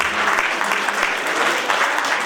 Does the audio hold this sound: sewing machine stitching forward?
no